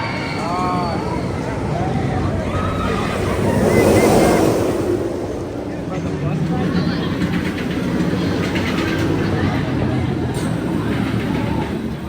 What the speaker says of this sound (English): Wildcat's Revenge, easily best ride in the park.